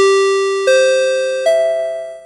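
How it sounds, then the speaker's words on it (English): Three clear, ringing chime tones sound one after another in a descending pattern, each struck note sustaining and decaying, as a race announcer plays the chimes at a road-racing event at VIR. "let's ring the chimes again, because I enjoy the little sound maker thing"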